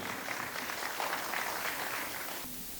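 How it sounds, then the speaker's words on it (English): Steady applause from a crowd fills the whole stretch, dense and even, easing slightly toward the end. "Ladies and gentlemen, can I have a huge round of applause for CA Dikshit?"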